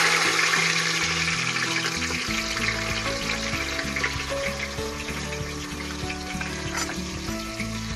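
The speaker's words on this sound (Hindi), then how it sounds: "मैंने कुकर में ऑयल हीट कर लिया है। अब इसमें हम सबसे पहले डालेंगे अनियंस," Onions frying in hot oil in a pressure cooker for chole, a steady loud sizzle and crackle running throughout with faint stirring clatter, and music playing underneath.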